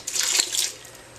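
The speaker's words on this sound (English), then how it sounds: "So I'm going to pour in a little water," Water is poured into a cooking pan to steam vegetables for a vegetable curry, a short bright splashing pour lasting under a second, close and fairly loud, then tailing off.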